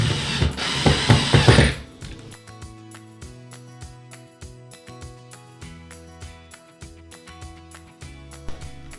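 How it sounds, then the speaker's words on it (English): A screw is driven into a DIY DreamBox frame with a ratcheting screwdriver, making rapid close clicks in a steady rhythm after a brief louder rustle at the start. "line up the hole, and then screw in"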